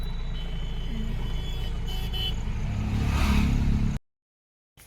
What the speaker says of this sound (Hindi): हम कार में बैठ चुके हैं, अब निकल चुके हैं रोड वाले घर से।